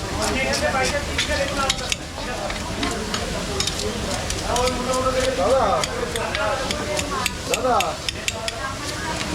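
Food sizzling in mustard oil in a pan, a steady frying hiss with stirring clatter throughout, while people talk over it.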